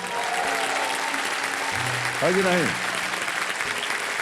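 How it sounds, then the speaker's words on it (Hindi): A game-show studio audience applauds steadily for several seconds, a dense, close wash of clapping while a voice speaks briefly over it. "जब इधर जाएंगे तो ताली बजेगी, और घूम के इधर आएंगे तो ताली बजेगी"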